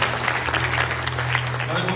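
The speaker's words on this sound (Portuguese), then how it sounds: "Queria pedir uma salva de palmas para Jesus pela vida deles." Church congregation clapping in applause, a dense patter of hands under a steady low hum from the sound system, with a voice talking over it.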